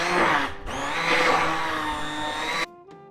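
A blender whirs steadily as it purees chickpea hummus with tahini, a loud continuous motor whine with a brief dip near the start, before cutting off abruptly and leaving a fading hum.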